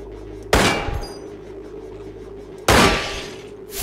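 Two loud, close gunshots from the video game Receiver, about two seconds apart, each a sharp crack with a short ringing tail, over a steady low hum and no voices.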